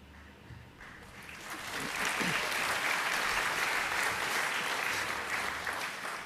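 An awards-night audience breaks into applause that swells within a couple of seconds and holds as steady, broad clapping from a sizable indoor crowd, heard alone.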